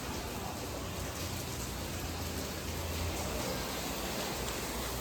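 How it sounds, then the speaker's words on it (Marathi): Heavy rain pours down steadily, a dense unbroken hiss of drops filling the space at constant loudness with no voices. "पाऊस चाललाय."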